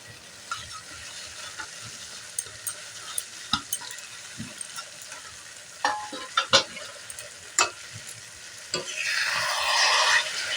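Tamarind pickle with added spice masala cooks down in a pan with a low sizzle, punctuated by irregular sharp scrapes and knocks of a stirring spoon, building to louder frying near the end.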